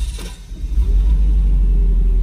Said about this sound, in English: So starting the car again after reading the codes.